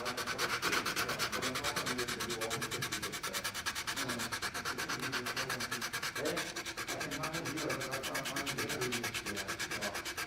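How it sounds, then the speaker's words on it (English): Finishing sandpaper rubbing over a hand-carved wooden bell, a fast, steady back-and-forth scratching that continues closely and evenly throughout, with no speech over it. "What I will do is to use it more of a finishing sandpaper as well."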